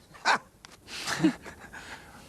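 A dog gives a couple of short barks, one sharp yap followed by a lower woof, at moderate distance in a quiet indoor scene.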